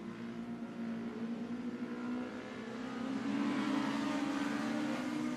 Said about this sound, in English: Drag race down the back straightaway.